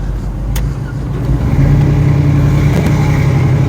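A 1969 Chevy Nova with a 2.5-inch exhaust and Flowmaster mufflers rumbles steadily while driving, a deep continuous drone that swells slightly partway through, heard loud and close from inside the car.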